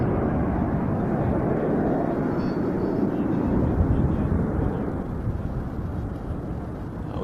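A Frecce Tricolori solo jet flies a four-point hesitation roll at an air tattoo, a loud broadband jet roar sweeping past steadily and easing slightly toward the end, with wind buffeting the microphone.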